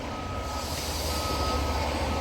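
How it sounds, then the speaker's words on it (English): Garbage truck reversing beeps on a city street under repair, a steady high tone repeating over a loud rumbling truck engine and street noise, fairly close, with no talk. "I think it's a garbage truck."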